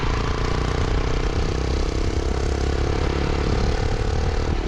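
A motorcycle engine idles steadily in Tandil, a continuous dense rumble with a faint mechanical clatter that stays at an even level throughout, with no one talking.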